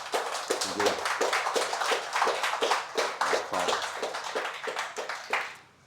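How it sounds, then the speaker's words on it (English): At a live Irish pub talk event, a small audience claps in a round of applause, individual hand claps clearly distinct and fairly close, keeping a steady pace before tapering off at the end. "I think that deserves a huge round of applause"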